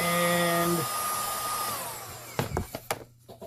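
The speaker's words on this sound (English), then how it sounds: "I'm just going to heat it. And get rid of it." A heat gun whirs steadily while warming a kydex sheet to remove a bubble, then winds down and stops, followed by a few close clunks and handling knocks.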